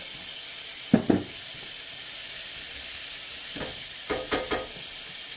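A bison burger patty fries in oil in a pan, with a constant close sizzle broken by a few louder crackling bursts and scrapes as it is handled, and no voices.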